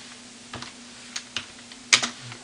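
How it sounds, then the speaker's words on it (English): Typing on a computer keyboard, a handful of sparse, irregular key clicks over a faint steady hum, with one sharper double tap near the end, close and alone. "Since we're going to type in a string"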